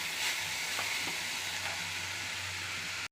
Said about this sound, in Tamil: எடுத்து வச்சுட்டு மஞ்சப்பொடி, காரப்பொடி போட்டு நல்லா கிளறணும்.